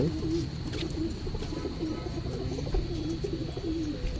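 Desi pigeons coo in repeated soft, throaty phrases amid a low background hum, several birds calling close by in an uneven rhythm.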